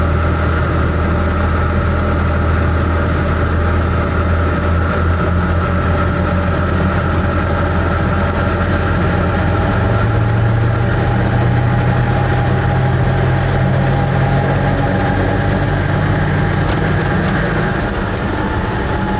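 An Invacar three-wheeled invalid carriage driven flat out at about 15 mph, its small engine giving a loud, steady drone with road rumble throughout, with no talk over it.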